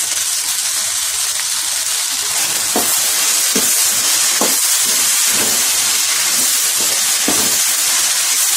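Loud, continuous sizzling and hissing as chopped tomatoes go into okra frying in oil, with a few brief sputters breaking through the steady frying noise.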